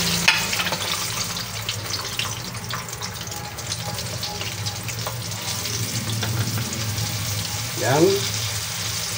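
A second batch of chicken pieces sizzles and crackles steadily in a hot pan for a ham and chicken casserole, a dense frying hiss running throughout with brief stirring scrapes and a short spoken word near the start.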